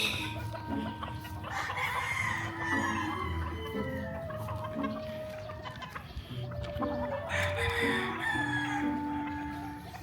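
Gamefowl roosters at a game farm crow in long drawn-out calls, overlapping with clucks and scattered bird chatter, fairly close and continuous, with no talk.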